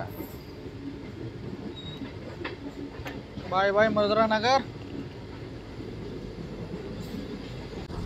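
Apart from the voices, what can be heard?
Bhimavaram–Vijayawada MEMU train running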